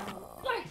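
A short, close dog bark with a whimpering, growly edge, loud and brief over a faint background.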